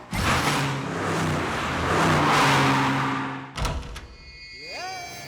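A car being driven, with a steady engine drone and road roar rising and falling for several seconds, then a sharp thunk and a pause, followed by a rising whine and softer tonal sounds.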